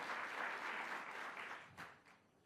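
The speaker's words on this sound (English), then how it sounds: "Let's give them a round of applause as well." A crowd at a New York governor's mental health funding announcement applauds two former officials, a quiet, distant wash of clapping that swells briefly and then fades out.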